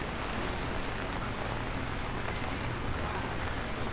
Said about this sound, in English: Constant sounds of flowing water.